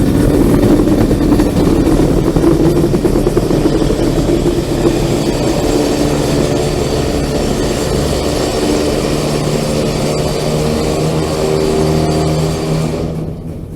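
A CSX freight train rolls across a trestle with a loud, continuous, close rumble of wagons and a thin squeal of brakes running throughout, easing slightly at the very end.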